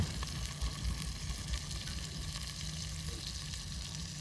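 Garlic sizzles and fries steadily in a pan with octopus, a continuous dense crackle with occasional stirring, close and fairly loud, no talk.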